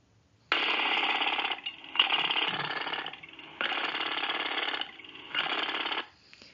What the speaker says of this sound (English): Some sounds, like a jackhammer, annoy us.